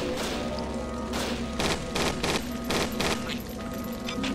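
Rapid automatic gunfire from shooters in the Judge Dredd: Dredd Vs Death video game, repeated bursts of loud crackling shots over a steady rumbling game background, with no talking.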